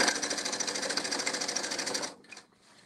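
Sewing machine running a steady, rapid stitch along a fabric fold of a novelty kimono, loud and close for about two seconds before stopping, followed by a few faint handling sounds.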